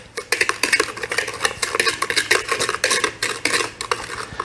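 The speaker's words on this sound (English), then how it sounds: "Now at this point, I'm going to stir these up just a little bit." A utensil briskly stirs eggs and sugar for bread pudding in a bowl, giving a fast, continuous run of clinking and scraping strokes, loud and close with no speech.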